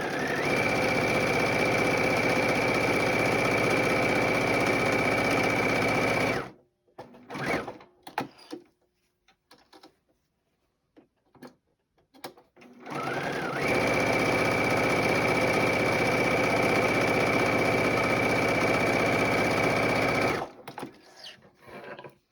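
Sewing machine running steadily as it stitches quilt blocks a quarter inch from a diagonal line, two long continuous whirring passes with a quieter gap of scattered handling clicks between them.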